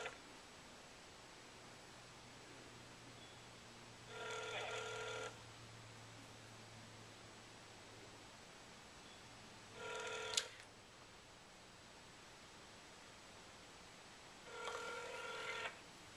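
Outgoing phone call ringing back through a handset, three separate ring bursts spaced several seconds apart over quiet line hiss, with no talk.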